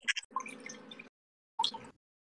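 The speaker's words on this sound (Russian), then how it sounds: "Я водичку себе наливаю, чё?" Water is poured into a glass in two short bursts separated by a pause, a close, quiet trickle with no talking over it.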